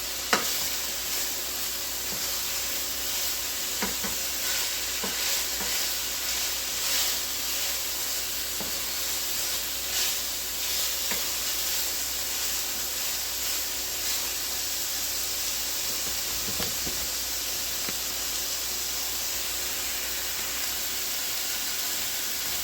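Chicken sizzles in a pan for creamy mushroom chicken and wild rice soup, a continuous steady frying hiss with scattered pops and occasional stirring clicks, heard alone without talk.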